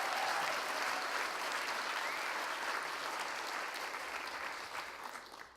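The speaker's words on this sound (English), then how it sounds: "Big applause" A conference audience gives steady, even applause that sounds moderately distant and fades slightly toward the end.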